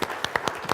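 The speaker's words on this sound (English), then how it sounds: "I think that our industry deserves a round of applause about the growth in the last year." Audience applause at a Direct Selling Association industry event announcing yearly sales figures, a brief burst of scattered claps with a few distinct hand strikes standing out.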